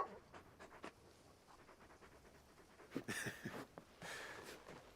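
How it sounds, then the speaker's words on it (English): Large dog panting in Final Fantasy XVI, a quiet run of quick rhythmic breaths that picks up into a few louder, breathier pants near the end, heard alone and close. "You're just a big puppy, aren't you?"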